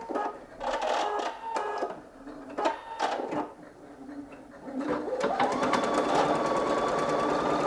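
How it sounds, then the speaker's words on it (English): A Singer EM9305 embroidery sewing machine stitches out a design, its rapid needle chatter running steadily and close, with brief pauses and shifting mechanical tones before settling into a continuous whirring stitch. "So I'll hold the thread here and then hit the go button here."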